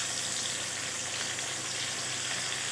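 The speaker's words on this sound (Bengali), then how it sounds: "তেলটা গরম হয়ে গেছে, এবার পেঁয়াজ কুচিগুলো দিয়ে দেবো তেলের মধ্যে" Chopped onions sizzle in hot oil in a wok, a steady, even hiss of frying with fine crackles throughout and no voices.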